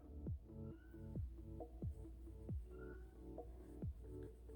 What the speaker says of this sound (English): My cat is psycho.